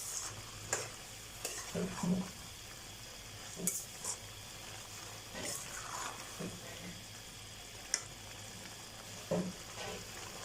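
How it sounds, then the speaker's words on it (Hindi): Chickpeas roasting in masala for kala chana, stirred with a spoon against the pan: a steady frying sizzle with repeated scraping strokes and occasional sharp clinks, fairly quiet and close, no talk. "बराबर इसमें चम्मच हिलाते रहेंगे ताकि चने नीचे ना लगे"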